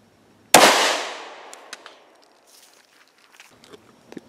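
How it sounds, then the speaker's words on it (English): A rifle shot fired at a ballistic helmet during testing, one loud sharp crack with a long decaying echo, followed by faint scattered clicks and small movements. "We're going to put shot three as close as we can to shot number two."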